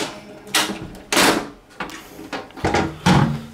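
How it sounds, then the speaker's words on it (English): A small form factor desktop computer case being opened, with a series of loud, close clacks and sliding scrapes of the metal side panel, in several separate bursts. "Let's go ahead and open up the case."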